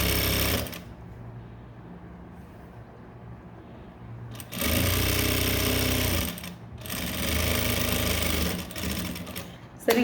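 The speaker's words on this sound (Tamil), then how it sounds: "இப்போ தைச்சிட்டு ஒரு தையல் போட்டிருக்கேன் பாருங்கள்." A sewing machine stitching blouse fabric runs in two bursts of rapid, steady mechanical chatter, separated by a quieter pause with soft handling of the cloth.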